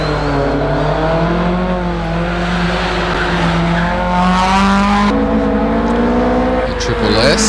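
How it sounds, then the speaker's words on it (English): Datsun 180B race car at a hillclimb, engine revving hard through rising gear pulls with a shift partway through, loud and close, with tire squeal and talk over it. "Looking at the 180B Datsun now of Josh Munn on the screen"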